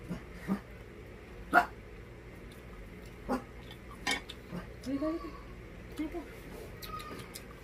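A dog gives a few short, scattered barks, fairly faint against the clink of dishes and cutlery, while people talk nearby.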